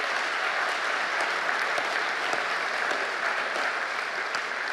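A gala audience at a rhino conservation fundraiser gives a steady round of applause, dense and even, with no voices above it.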